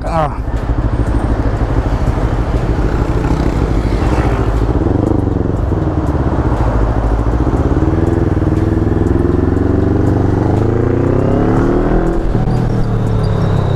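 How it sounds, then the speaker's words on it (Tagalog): A motorcycle with an aftermarket Zero One Moto Villain exhaust rumbles steadily and loudly throughout while riding, with a deep, full exhaust note that rises in pitch as it accelerates, and someone speaks over it. "Grabe, buong buo yung tunog."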